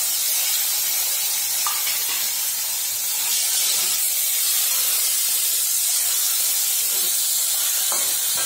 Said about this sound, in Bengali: এখন দেখুন সবার আগে টমেটোটা দিয়ে দিচ্ছি,